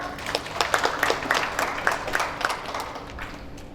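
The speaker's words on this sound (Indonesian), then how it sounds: "Beri aplaus dong" Audience applause at a training-session testimonial gathering, a steady patter of many hands clapping at moderate volume with sharp individual claps standing out, continuing throughout without talk.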